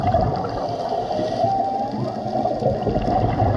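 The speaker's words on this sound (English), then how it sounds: "These are humpback whales." Humpback whales call underwater, long tonal moans sliding slightly in pitch over a dense wash of water noise, loud and sustained without any speech.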